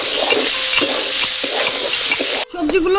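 Chopped winter vegetables with green chili and tomato sizzle loudly in a hot pan while being stirred, steady frying hiss with scraping strokes, a short pause near the end, then the sizzle resumes.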